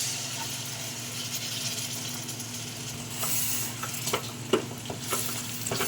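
Vangibath gojju with tamarind juice cooking in a pan, a steady broadband sizzle and simmer with a low hum beneath, broken near the end by a few sharp clinks and scrapes of stirring, close and alone without talk.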